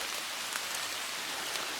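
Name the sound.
light rain starting to fall in a pine forest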